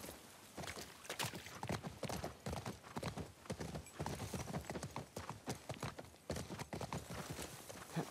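Horse hooves from The Last of Us Part II clip-clop in a steady, brisk rhythm of sharp, close impacts that continue throughout with little else around them.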